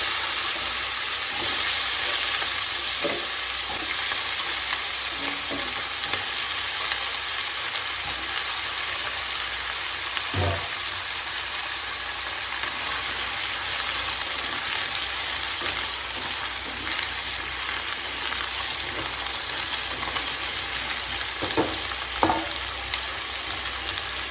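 Potatoes and cauliflower frying together in a pan, a steady close crackling sizzle with occasional soft knocks of a spatula, no voices.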